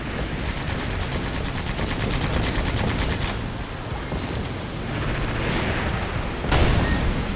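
Rapid mecha gunfire in the video game Sand Land, a dense continuous rattle of shots with a louder boom near the end, heard alone without talk.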